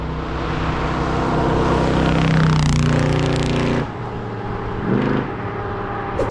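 A 1972 Chevy K20 pickup with a 383 cubic-inch stroker V8 and choppy cam runs loud and close, a steady rumbling idle that swells and revs midway, then drops back to a lumpy idle.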